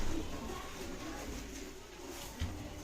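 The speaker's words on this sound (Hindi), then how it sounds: "ये देखो आप, पीली आंखों के, वाइट आंखों के अच्छे कबूतर हैं।" Punjabi pigeons with yellow and white eyes coo softly in a loft, faint low murmuring calls under a steady background hiss, with one brief louder thump near the end.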